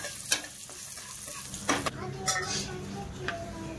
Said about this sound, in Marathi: आता आपण मशरूम थोडे तेलामध्ये फ्राय करून घेऊया।